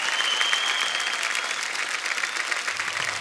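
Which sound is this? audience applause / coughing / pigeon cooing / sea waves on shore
audience applause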